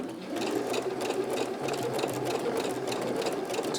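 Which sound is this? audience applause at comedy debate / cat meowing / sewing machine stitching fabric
sewing machine stitching fabric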